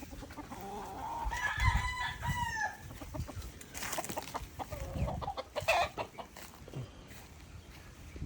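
Chickens on a farm cluck and a rooster crows, the calls fairly faint and mixed with rustling and outdoor background noise.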